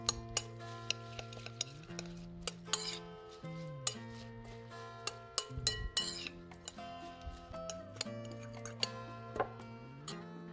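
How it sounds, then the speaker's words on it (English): A spoon or whisk clinks and taps against a bowl while egg, kosher salt and canola oil are mixed together, in a steady series of sharp clinks over a faint tonal background. "Let's give it a good mix."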